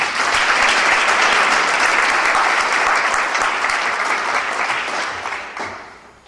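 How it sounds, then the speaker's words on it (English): An audience at an evening school ceremony claps loudly and steadily in a large hall, a dense wash of many hands that holds for several seconds then tapers off near the end. "but we still clap for her."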